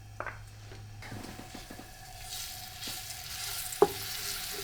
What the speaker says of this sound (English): we start with the garlic, and we put this right over here in the oil